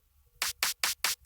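Snare drum one-shot sample for a psytrance drum kit, struck five times in a quick even rhythm, each hit a bright, crisp crack with a short tail, loud and alone.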